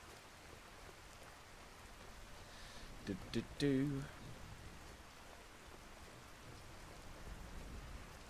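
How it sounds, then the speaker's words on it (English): Rain in the video game Skyrim, a soft steady hiss of rainfall throughout, faint, with a short hummed voice briefly rising over it. "Yeah, we know, game, it's raining."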